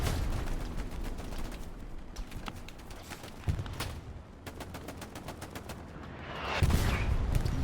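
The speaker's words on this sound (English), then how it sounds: "Two's on his Tommy gun there." Tommy gun firing in the World War II shooter game Hell Let Loose, with rapid bursts of automatic fire crackling over a busy battlefield din, the shots coming in quick repeated volleys.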